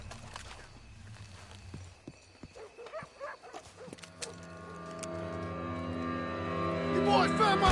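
Dogs bark in Red Dead Redemption 2 during a tense standoff at a building, sharp yelps and barks scattered over a steady background, with a voice speaking partway through.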